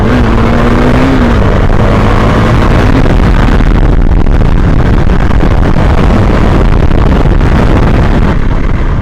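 A KTM Duke 390 BS4 motorcycle engine revs hard and accelerates through first and second gear, a loud, close, continuous roar with rising engine pitch and rough road and wind noise, no voices.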